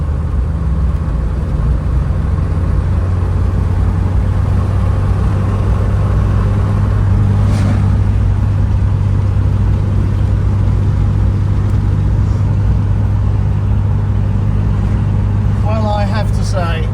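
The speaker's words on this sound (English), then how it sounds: "I'm delighted to find that actually a Morris Minor is a lovely thing to drive." Steady engine drone and road rumble from inside a moving Morris Minor car, loud and continuous, with a voice talking over it.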